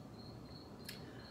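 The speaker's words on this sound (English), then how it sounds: "That's a cricket that's trapped in the kitchen." A cricket trapped somewhere in a kitchen chirps as a thin, steady high trill running through most of the moment over a faint room hum, with one brief sharper click partway through.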